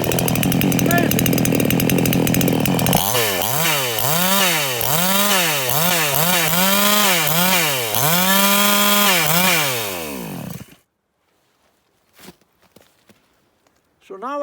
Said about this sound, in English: So now I got a chainsaw